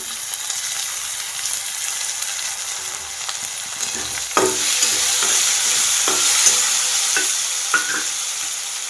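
Moong dal stirred and fried in a pan with garlic and chilli for a hadga flower bhaji, giving a steady close sizzle broken by scraping stirs and a few sharper clicks, with no talk.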